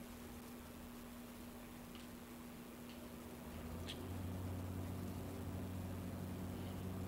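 Aircraft engine in reverse thrust in a flight simulator game, a low steady hum that swells and deepens partway through and then holds, quiet and continuous, with no voices.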